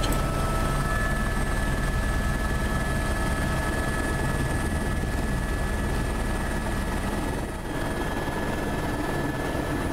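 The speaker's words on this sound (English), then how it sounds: "The two lead helicopters have landed and we look around for a suitable place to put ours down." Helicopter over an Alaskan ice field with a loud, constant rotor and engine drone throughout, close and steady, with only a slight dip in level near the end and no voices.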